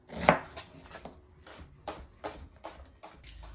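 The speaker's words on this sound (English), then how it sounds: "I'm going to cut it pretty small" Knife finely chopping half of a large onion on a board for stuffed pepper soup, a series of crisp close cuts in an uneven rhythm, the first one loudest.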